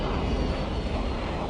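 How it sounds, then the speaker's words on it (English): Airbus A310 airliner engines roar as the plane strains in a steep, almost vertical climb, a loud, dense, continuous broadband rumble with no pauses. "The engines on the A310 don't have enough power to push it almost vertically into the sky."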